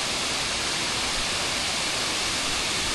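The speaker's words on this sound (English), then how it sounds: "there's that waterfall" A waterfall in a state park roars as a steady, broad, hissing wash of falling water, seemingly at some distance, continuous and unbroken for the full few seconds with no talk over it.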